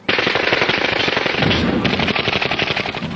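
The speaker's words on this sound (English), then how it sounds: "They opened fire and the night sky was ablaze. The gunfire from the Uzi just lit up the place." Uzi machine gun fire fills the clip in one continuous, dense, loud burst of rapid shots, close and unbroken, with no voices over it. It is a sound effect in an audiobook scene of a night drive-by shooting.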